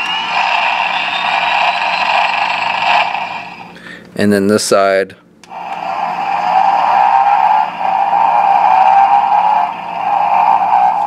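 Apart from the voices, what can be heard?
toy motorcycle engine sound effects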